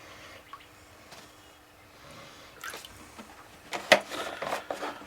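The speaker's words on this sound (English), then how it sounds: "We're going to pour in about 1 inch of oil into this pan." Cooking oil pours into a frying pan, starting as a faint trickle and swelling into a louder, bubbly glugging splash toward the end.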